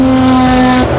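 Porsche 917K racing car engine holding a steady high-pitched tone for about a second, loud and close, with a slight drop at the end.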